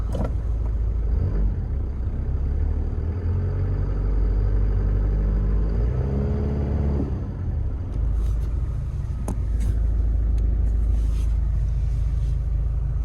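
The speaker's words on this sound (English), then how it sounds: "We will let it idle just for a minute and then get rolling." A 1995 Toyota Hilux Surf engine idles cold with a steady, loud low rumble that stays even throughout, apart from a brief shift in tone midway, with some wind noise on the microphone.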